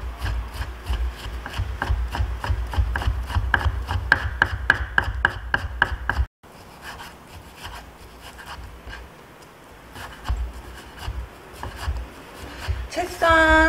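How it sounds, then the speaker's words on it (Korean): A kitchen knife chops thinly julienned beef on a wooden board for a hamburger sandwich, a fast steady run of sharp close taps that halts abruptly, then softer scattered chopping and scraping follows with a brief voice at the end. "채썬 소고기는 또 잘게 다져주세요."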